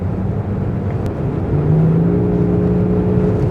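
Mercedes-Benz S450d W223 diesel on the Autobahn, a smooth steady engine drone with a gently rising pitch as it pulls harder, heard from inside the cabin with no talk.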